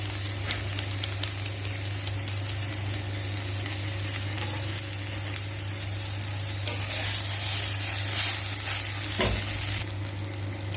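Chow mein noodles with vegetables, eggs and black pepper stir-fried in a little oil, a loud continuous sizzle with scraping stirring strokes close up, growing busier toward the end; no one speaks.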